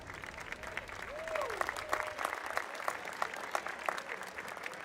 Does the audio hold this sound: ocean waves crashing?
no